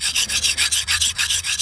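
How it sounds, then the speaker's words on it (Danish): A knife blade is sharpened on a smaller-grit sharpening stone: about ten even, rhythmic rasping strokes in quick succession, close and bright, with no voices. "Vi bruger bare de lidt mindre sten til at lave nogle lidt mindre ridser i knivsækken"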